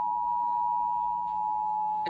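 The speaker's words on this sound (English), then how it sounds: "It's got 3 tones coming in." Steady Emergency Alert System attention tone from a national EAS test, a continuous pure tone held loud and unbroken from start to finish with no talk over it.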